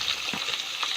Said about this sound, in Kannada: ಇವಾಗ ಫ್ರೈ ಆಗ್ತಿದೆ